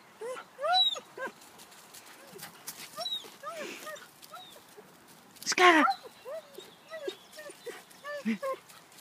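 A puppy nearby whimpers and gives high whining yelps in short bursts, with a louder squeal midway and some talking mixed in.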